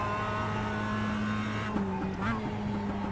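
Mazda MX-5 Cup race cars in the iRacing game drone along with a steady, buzzing engine note that rises and dips through gear changes, with a voice talking over it.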